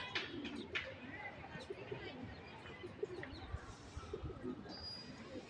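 Pigeons kept for pigeon-flying give soft, low cooing with a few chirps, faint and somewhat distant over outdoor background noise, while someone talks in the clip.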